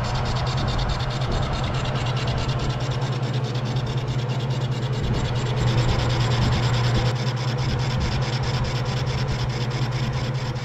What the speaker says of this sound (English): now Scott started by cleaning up the back side of the flange here